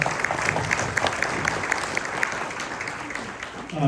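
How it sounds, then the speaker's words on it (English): Crowd at an Independence Day gathering in Wellington applauds a county commissioner and sheriff, a steady wash of clapping lasting several seconds with some voices mixed in, fading slightly before a louder swell at the end. "give him a round of applause"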